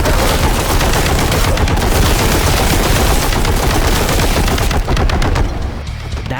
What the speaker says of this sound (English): listen to this heavy bolter